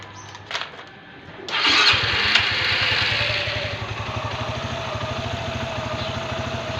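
A Suzuki GR150 motorcycle running on a homemade lithium LiFePO4 26650-cell battery cranks, catches and settles into a steady, close, low chugging idle after a brief starter whir.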